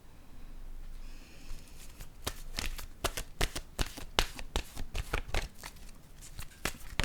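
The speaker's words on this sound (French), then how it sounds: "là maintenant, je vais piger une carte" A playing card drawn from a shuffled deck during a card reading, heard as a close run of quick, crisp snaps and riffling flicks repeating for several seconds, with no talk.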